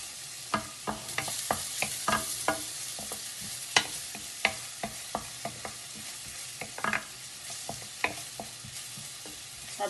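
Chopped garlic cloves frying in butter in a pan and being stirred, a steady close sizzle broken by frequent sharp clacks of the utensil against the pan.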